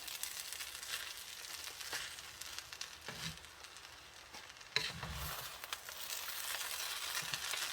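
Spatula scraping and stirring through a big pile of herbed fried rice in a small wok with onion and garlic, steady soft sizzle under gentle rhythmic scrapes, close and fairly quiet.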